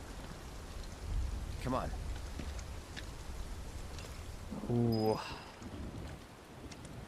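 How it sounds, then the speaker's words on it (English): Steady soft rain patters in Final Fantasy 7 Rebirth, a constant hiss beneath a man's brief exclamations. "and now it's raining"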